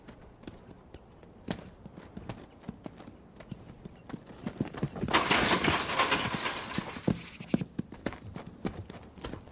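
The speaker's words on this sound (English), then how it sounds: "This 2-year-old quarter horse stud, born on the open range, has never been handled." Hooves of an unhandled two-year-old quarter horse stud on a Northern California ranch clip-clop across the ground. The rapid hoofbeats swell louder as the horse passes close in the middle, then continue more steadily.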